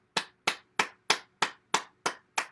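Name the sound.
hands clapping on the body during a bouncing exercise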